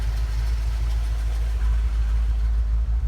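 A grey car, originally from Seattle and under winter repair, runs with a steady, loud, low engine rumble that holds even throughout, with no talk over it.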